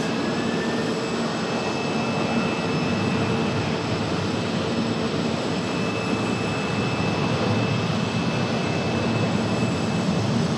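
A United jet airliner departing from Raleigh-Durham International, a steady broadband engine roar that holds evenly throughout at moderate distance, with no voices.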